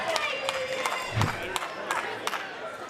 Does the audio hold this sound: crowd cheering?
yes